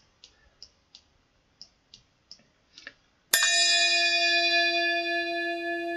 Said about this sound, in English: Did you hear the bell? I have that for new subscribers